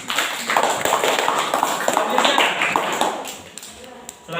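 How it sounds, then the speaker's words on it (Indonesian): A classroom audience applauds for a presenting student group, a dense burst of many hands clapping together at close range, sustained and then tapering off near the end, with faint voices underneath. "Oke, tepuk tangan untuk kelompok 3."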